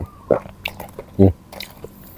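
Close, crunchy bites and chewing on red sausage and crisp bitter melon, a few sharp crunches with a louder bite near the end, softly voiced sounds between them.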